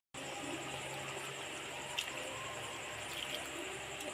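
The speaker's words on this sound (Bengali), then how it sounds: "আমি আরেকটু জল দেবো" Water pours into a simmering banana and potato curry, a steady broadband rush and splash that holds close and even for about four seconds, with no voices over it.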